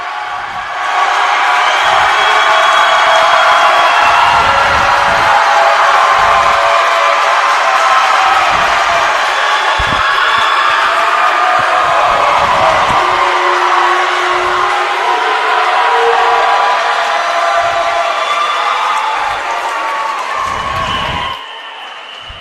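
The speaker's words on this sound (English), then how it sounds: "Just going to turn it up and let you listen to this crowd." A swim meet crowd at Balfour Natatorium, Wheaton College against Springfield and Keene State, roars loud and unbroken with echoing cheers and shrill whistle-like tones for over twenty seconds before dropping off at the end.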